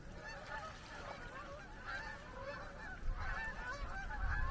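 A large gaggle of geese honks continuously as the flock flies overhead after following a boat on the water, the calls overlapping and growing slightly louder and closer toward the end.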